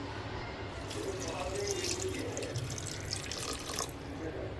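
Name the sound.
water being poured into a dahi vada batter mix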